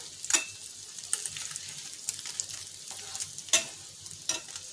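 A Bengali-style Mughlai paratha, an egg-stuffed flatbread, fries in a pan over a low flame with a steady soft sizzle, broken by a few sharper crackles and spatters.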